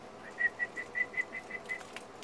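A person whistles a short tune of about nine quick, clear notes in a steady rhythm, close and fairly soft, with no talking.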